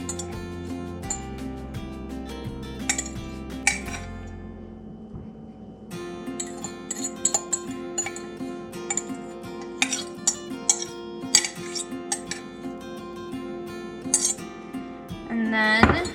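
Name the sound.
serving brown rice into bowls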